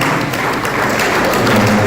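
Audience applause at an induction ceremony, loud continuous clapping from a crowd with dense, even texture throughout.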